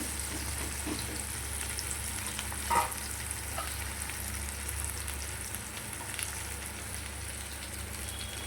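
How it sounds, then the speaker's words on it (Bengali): Onion, garlic and tomato fry in a pan for a lote fish curry, giving a steady, fairly quiet sizzle with one brief clink near the start and no talking. "আগে পেঁয়াজ, রসুন, টমেটোটা একটু ভেজে নেব লাল লাল করে"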